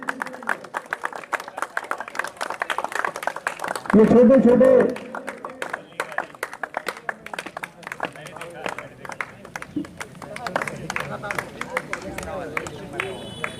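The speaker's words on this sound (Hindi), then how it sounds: "इनके लिए जोरदार तालियां हमारे इन फ्रेंचाइजीज के" A crowd at an outdoor cricket tournament prize ceremony claps for the franchise owners, with steady rapid clapping throughout and a brief loud announcement cutting through partway.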